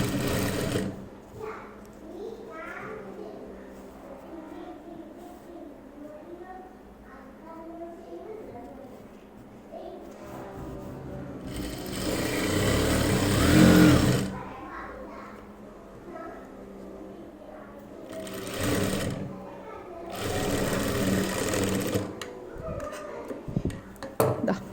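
Sewing machine stitching churidar fabric in short bursts between stretches of someone talking, the motor whirring loud for a few seconds at a time and then falling quiet.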